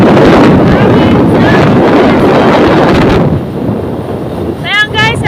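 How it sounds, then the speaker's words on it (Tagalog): Strong wind buffets the microphone in a loud, continuous roar on a roadside trip through Quezon province, easing slightly toward the end as a voice is heard speaking. "Sobrang lakas ng hangin."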